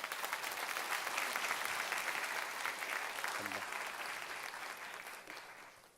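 Warm applause from a church congregation at a Sunday worship service, welcoming a pastor to the stage; steady, dense clapping that carries throughout and tapers off at the end.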